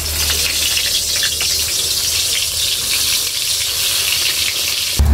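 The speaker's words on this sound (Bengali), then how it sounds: "তেল গরম হয়ে গেছে, বেগুনটা আবার দিয়ে দেবো।" Brinjal slices frying in hot white cooking oil in a wok give a steady, dense sizzle and crackle that stays even throughout, close and fairly loud, with no voices over it.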